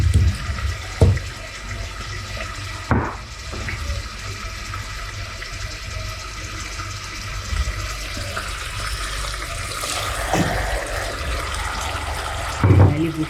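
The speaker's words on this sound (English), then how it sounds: "I'll add some small water to the leftover in the eating bowl, then pour it into the stew." Water poured into a pot of Ghanaian garden egg stew, a steady liquid splashing and trickling throughout with a few sharper clinks of the bowl, fairly close and without talk.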